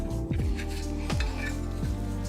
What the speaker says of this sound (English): We're gonna whisk those together, you know, with this whisk.